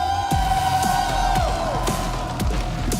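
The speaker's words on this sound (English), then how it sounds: "Nice little reaction from the crowd there" A live audience at an Overwatch esports championship in Paris cheers and whoops as a team takes the stage, a broad roar of many voices with distant arena echo and scattered bright sound effects.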